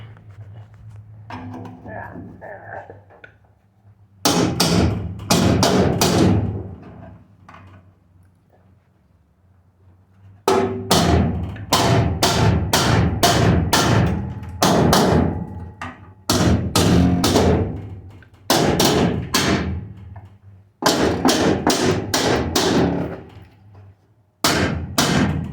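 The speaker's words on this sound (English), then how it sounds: "I can push the rest of the torque box up just by whacking on it." A car's torque box is hammered into place with heavy metal whacks fired off in rapid bursts of blows, separated by short pauses, loud and close in a quiet workshop.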